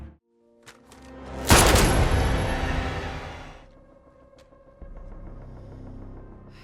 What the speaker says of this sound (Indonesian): wanita itu malah mengambil pistol dan menembaknya dengan sadis.